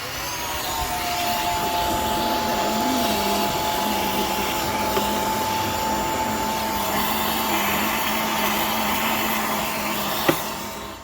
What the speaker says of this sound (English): There's not much dirt in this, but I will hoover it out anyway.